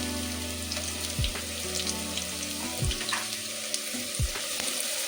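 Onions sizzle steadily in a hot pan, a continuous crackling hiss broken by a few soft clinks and knocks.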